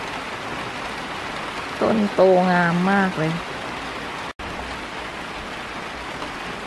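Steady rain falls on a vegetable garden of chili plants, a continuous soft hiss of drops filling the whole stretch, with a voice speaking briefly partway through.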